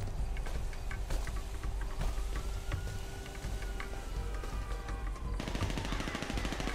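Rapid bursts of automatic gunfire in the video game GTA 5 crackle continuously, with sharp repeated shots layered over a dense, noisy battle din.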